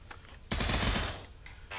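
An M16 rifle fires one loud, sustained burst of about two-thirds of a second in the Pavlov VR shooting game, preceded and followed by quieter handling noises.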